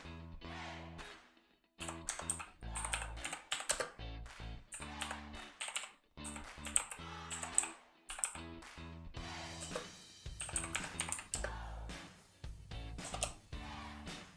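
A computer keyboard is typed on in quick, irregular bursts of crisp key clicks, close and fairly quiet, with short pauses between runs of keystrokes.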